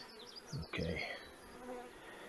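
Honey bees buzz around a queenless nuc hive outdoors, a close, fairly faint hum with individual bees passing by the microphone, their pitch wavering as they fly.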